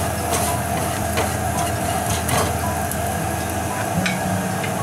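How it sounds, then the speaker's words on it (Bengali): Asafoetida sizzling in hot oil while making sambar, a dense, continuous frying hiss close up with faint stirring underneath and no speech. "এরপর তেলের মধ্যে দিয়ে দেব হিংটা। হিংটা আমি নাড়াচাড়া করে নেব।"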